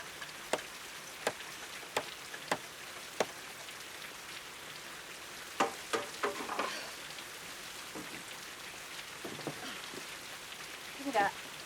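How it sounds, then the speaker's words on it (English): Steady rain pattering on a roof, a soft continuous hiss broken by scattered sharp drips and taps, fairly close and quiet, with no talk over it. "It's raining on top of the roof."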